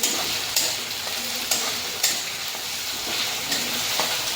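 Tomatoes sautéing in a pan while being stirred, a steady close sizzle punctuated by regular spatula scrapes about every half second, no voices.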